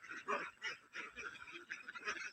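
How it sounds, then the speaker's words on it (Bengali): Ducks on a duck farm in Laos with a pond nearby, a flock honking and quacking in quick, uneven bursts, moderately close but fairly quiet, with no clear speech. "এটা একটা হাঁসের ফার্ম।"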